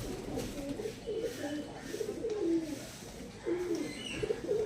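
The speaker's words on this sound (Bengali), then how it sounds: "চলো কথা না বাড়িয়ে পায়রাগুলো দেখিয়ে দিই" Madras pigeons coo in low, throaty repeated calls at close range, layered over a steady indoor background murmur with a voice faintly present.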